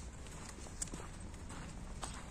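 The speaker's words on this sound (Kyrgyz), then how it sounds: "Мына туугандар, кунанды көрүңүздөр, жаш жылкы экен." A young horse walks nearby, its hooves giving a few soft, faint clip-clops over quiet outdoor background noise.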